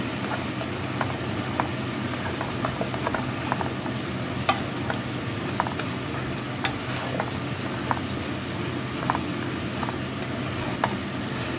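Vegetables for pinakbet, including squash, being stirred together in a cooking pan, with a steady sizzle under scattered scraping clicks of the utensil against the pan, moderately loud and continuous with no voices.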